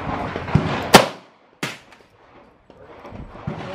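A Ruger rimfire rifle fires at targets 50 yards out at an outdoor range, two sharp cracks about a second apart, the first loud and close, followed by quieter handling noise.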